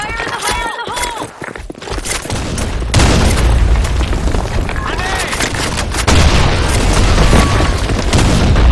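Grenade blasts and gunfire boom through a Sand Storm II video game match, loud and close, with heavy low rumbles over a continuous din of shots and footsteps.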